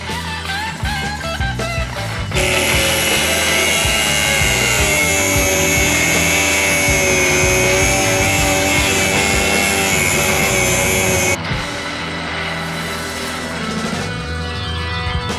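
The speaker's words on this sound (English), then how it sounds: "I've made the preliminary cuts on the spindles to get rid of these ears." Power tool cutting the ears off brake spindles for a 1992 Firebird, a loud continuous high-pitched grinding whine lasting about nine seconds, close up, with shorter tool noise before and after.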